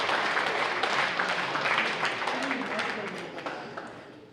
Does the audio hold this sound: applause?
yes